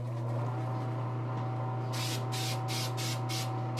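A spray gun applying varnish to a custom statue inside a running spray booth: steady booth fan hum and drone, then a series of short hissing spray bursts in a quick on-off rhythm.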